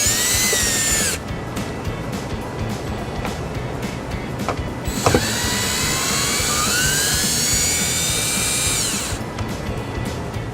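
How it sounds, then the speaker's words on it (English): A power drill with an 8mm socket unscrews screws on a 2013 Ford Escape, whirring loudly up close in two long runs, its pitch rising and falling as it spins, with a brief pause and click between bursts. "I'll just take our electric drill, an 8mm socket, unscrew these."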